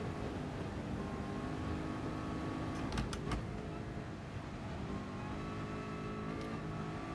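Porsche race car engine in the racing game GT Sport, a steady droning hum held at an even level throughout with a few brief sharp ticks in the middle.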